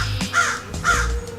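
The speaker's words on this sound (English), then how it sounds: "Can you hear those birds?" Crows caw outdoors, two clear harsh calls about half a second apart, moderately close and loud, with no talking.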